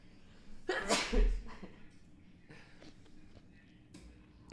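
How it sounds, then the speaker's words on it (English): A single sharp sneeze close to the microphone, followed by a few quiet breaths and faint rustling. "We got the sneeze."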